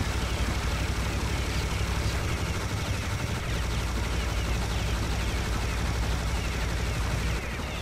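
Sustained rapid gunfire from weapons in the video game Serious Sam HD: The Second Encounter, loud and continuous with dense overlapping shots throughout, no speech over it.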